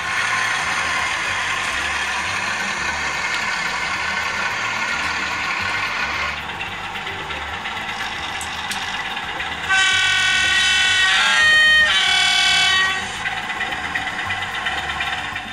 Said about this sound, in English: This is my Backman class 47, 47001, factory fitted with DCC sound.